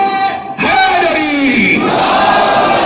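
A large crowd at a Muharram religious gathering roars a slogan in unison after a brief pause, a loud, sustained chorus of voices that swells and holds for a couple of seconds.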